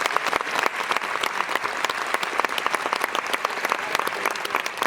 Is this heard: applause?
yes